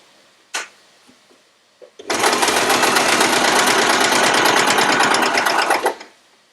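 A sewing machine chain piecing quilt pieces runs in one steady, loud, rapid stitching burst lasting about four seconds, preceded by a couple of faint clicks and handling noises, with no talk.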